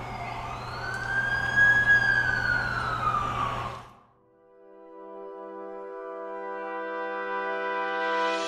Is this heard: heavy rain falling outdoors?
no